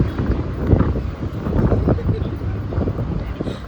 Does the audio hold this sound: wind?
yes